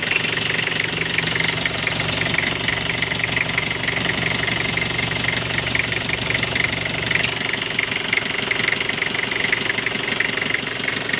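A 1997 Nissan Big M pickup truck's diesel engine idles steadily close by, a continuous rough clattering knock with a low rumbling drone that stays even throughout.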